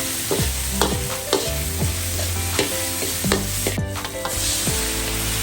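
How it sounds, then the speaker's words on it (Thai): Carrots, red chilies, green peppercorns and torn kaffir lime leaves stir-fried in a pan: a steady sizzle with repeated metallic clanks and scrapes of a spatula against the pan at a brisk rhythm. "ใส่ลงไปผัดเลยครับ"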